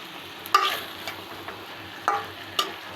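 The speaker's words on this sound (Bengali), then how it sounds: "দেখতেই পাচ্ছেন আমি ভালোভাবে এখন নেড়ে নিচ্ছি মশলাটা দিয়ে" Chicken being stirred in a frying pan with spice paste and chilli for a roast, a steady soft sizzle broken by a few sharp scraping strokes of the spoon.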